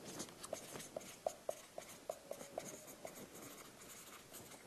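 A hand writes a maths formula on a surface, making a run of faint scratchy strokes and small taps with an uneven rhythm, close but quiet.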